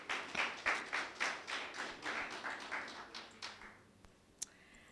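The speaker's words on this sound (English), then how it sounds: "Please, a round of applause." A small symposium audience claps in a loose rhythmic round that fades out over a few seconds, followed by a single sharp tap near the end.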